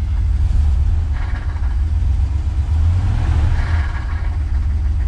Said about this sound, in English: that is quite the fucking death noise it makes on diesel